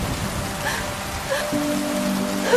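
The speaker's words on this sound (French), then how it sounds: "Une grosse pluie se mit à tomber." Heavy rain falls steadily in a bedtime story soundscape, a continuous hissing wash with a few soft tonal sounds over it, close and moderately loud.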